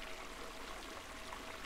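Clear water flows steadily as a soft, continuous stream in the game Eleusis, faint and even throughout, with no voices.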